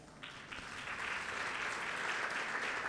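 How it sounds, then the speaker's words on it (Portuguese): Congregation clapping in a church service, a steady dense wash of applause that swells slightly and holds for a few seconds, fairly distant and even, with no voices over it. "Queria que você desse uma salva de palmas."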